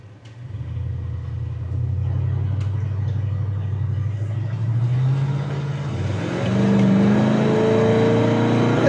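A 1966 Chevy El Camino engine running while driving, a loud low rumble with a steady drone that rises as the car pulls harder in the second half, heard from inside the vehicle.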